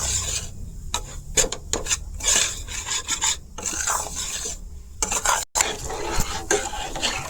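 Gram flour (besan) roasting in a pan over low-medium heat is stirred and scraped with a utensil, giving steady, close rasping strokes in irregular bursts with brief pauses between them.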